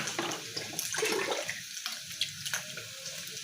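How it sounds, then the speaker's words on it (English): Water pours steadily into an electric jug, being filled to boil rice, a continuous close splashing and trickling with small bursts, no speech. "Water for rice to boil in the electrical jug there."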